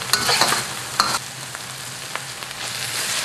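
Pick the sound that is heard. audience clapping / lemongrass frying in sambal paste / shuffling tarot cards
lemongrass frying in sambal paste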